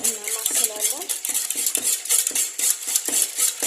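A corn flour mixture is stirred in a pot with a metal spoon, producing rapid, continuous scraping and clinking of metal on metal, loud and close with a fast repeating rhythm.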